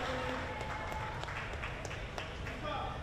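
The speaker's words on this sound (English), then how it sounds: "crowd will give Ingerman a hand" Spectators in a high school gym applaud an Arlington High School wrestler after a pinned match against Brookline, scattered claps over a busy crowd murmur, moderately distant.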